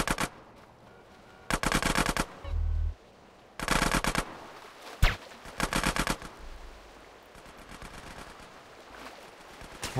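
Rapid bursts of automatic gunfire from a shootout in GTA San Andreas Definitive Edition, loud clusters of shots separated by short pauses, with lower thuds and scattered single cracks between them.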